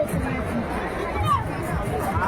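Busy food court in a guava orchard near Nashik, with a dense babble of many voices and general crowd bustle all around, a nearer voice standing out over the steady hubbub.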